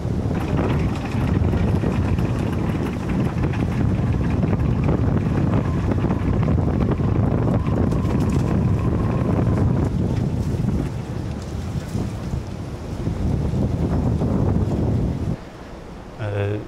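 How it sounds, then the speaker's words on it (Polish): Strong wind of about 16-17 knots buffets the microphone in heavy gusts in a harbor, with water and boat sounds around it; the roar eases briefly near the end. "Wiatr jest taki, no może z 16-17 węzłów tutaj w porcie dzisiaj."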